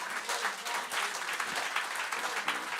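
A church congregation at a worship service claps and cheers to acclaim the Lord, a steady wash of fairly soft, continuous applause with faint voices mixed in.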